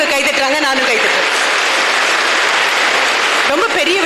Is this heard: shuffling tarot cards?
no